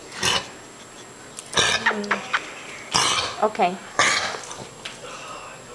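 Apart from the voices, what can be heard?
baby coughing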